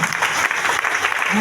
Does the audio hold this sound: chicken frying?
no